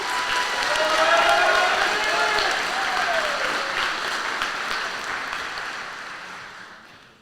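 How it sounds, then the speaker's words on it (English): An audience at a high school senior awards ceremony applauds students, a dense wash of clapping with some cheering that swells early and then gradually fades away. "Please give these students a round of applause."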